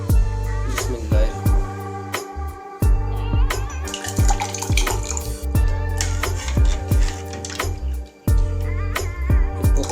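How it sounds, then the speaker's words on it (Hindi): Jaggery sharbat is poured into a glass, giving repeated bursts of splashing, gurgling liquid with short pauses between pours, loud and close. "शरबत को मैं गिलास में डालने लगा हूँ।"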